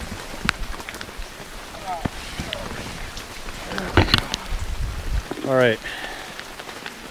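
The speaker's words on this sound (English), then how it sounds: "It just won't stop raining." Steady rain falls on a hiking trail, a constant patter beneath people talking briefly and a few scattered knocks and bumps.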